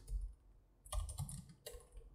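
Quiet keystrokes on a computer keyboard come in two short clusters of clicks separated by a pause, faint and close with no talking.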